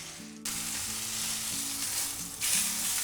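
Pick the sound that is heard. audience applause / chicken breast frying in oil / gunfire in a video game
chicken breast frying in oil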